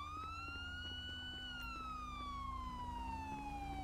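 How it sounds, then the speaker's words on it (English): A police siren wails steadily in the game GTA V with the LSPDFR police mod, its tone sliding slowly downward, fairly faint against a low rumbling background. "I love having the siren blare."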